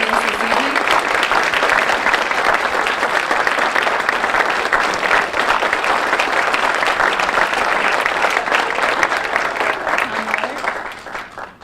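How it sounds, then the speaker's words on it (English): An evening awards reception crowd gives a long, loud round of applause for award recipients, dense even clapping that fades slightly at the end. "Let's give a warm round of applause to all of our recipients this evening."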